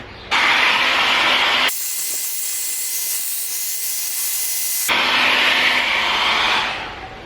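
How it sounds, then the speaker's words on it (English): A hair dryer blows loudly up close, heating adhesive on a Toyota Tundra, a continuous rushing whoosh that shifts in tone midway, then winds down at the end. "we're going to grab the hair dryer, heat this up a bit"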